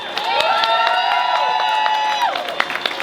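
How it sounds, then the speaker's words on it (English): A crowd at an outdoor rally by a museum breaks into cheering, with high sustained whoops and shouts over scattered clapping. The cheering holds loud for about two seconds, then thins to a few claps. "Can I have a round of applause?"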